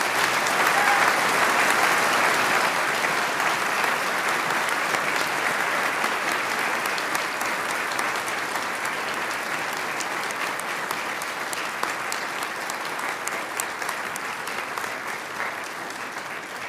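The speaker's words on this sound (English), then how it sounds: "Please put your hands together for 12 clap." Sustained applause from the audience at a Year 12 school graduation ceremony fills the hall, a dense, steady wash of many hands clapping that holds evenly throughout and eases off only slightly toward the end.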